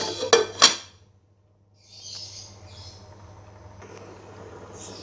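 A lid set onto a cooking pot of Minang asam padeh with tempe and eggplant, two sharp metallic clinks close together, followed by quiet simmering and faint kitchen clatter, no talking.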